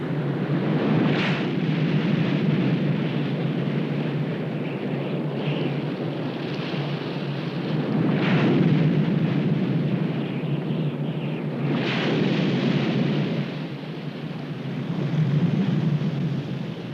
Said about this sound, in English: The rain has finally let up, but the gale winds continue to blow.